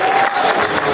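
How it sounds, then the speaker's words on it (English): Dense clapping from an audience, steady and fairly loud for a brief moment, with a faint murmur of crowd noise mixed in. "Everybody clap."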